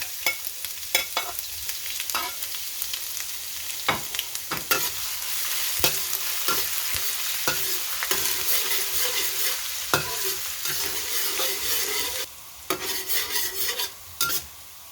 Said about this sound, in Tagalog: Ayan, magigisa ako ng ginger.